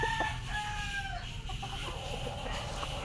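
A lemon-breed rooster crows among pet chickens on a small farm, with a long, drawn-out call over steady low clucking and background hum, close and fairly loud.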